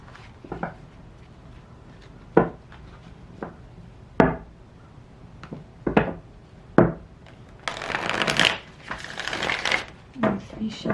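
A deck of tarot cards is handled and shuffled close by. Sharp riffling bursts alternate with quiet pauses, and the shuffling grows louder and denser toward the end.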